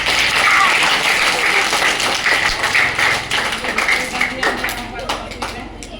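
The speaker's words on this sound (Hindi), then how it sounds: "तो इमरान पटेल करके सर आपके इधर बैठे हुए हैं, इनका भी कर्तव्य ध्वनि से स्वागत करेंगे आप सभी लोग। तालियां बजाकर" An outdoor audience at a tree-planting event claps to welcome teachers, a dense continuous patter of many hands, loud and close, with talk mixed in and a few sharper taps.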